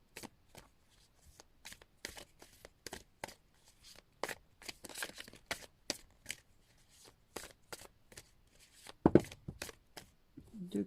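A deck of tarot cards is shuffled by hand in a string of quick, crisp riffling snaps and flicks, close and fairly quiet, ending in a brief thump as the deck is cut, with no talk.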